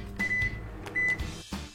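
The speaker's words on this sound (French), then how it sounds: "Je mets le tout au micro-ondes pour 2 ou 3 minutes." A microwave oven runs a covered plate holding an egg and ham omelette mixture, a low steady hum under a few clicks and two short high beeps.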